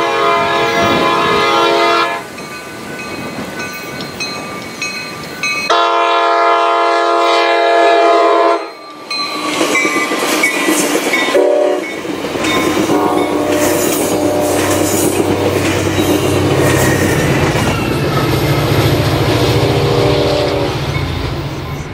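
A train rumbles past loudly in the San Francisco Bay Area with a long, blaring horn and screeching wheels, the noise swelling and holding steady as the cars roll by.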